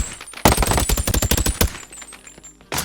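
Rapid bursts of automatic fire from an AK Gepard rifle in a Boneworks VR mod, loud sharp repeated shots for about a second, then quieter clatter and a final burst.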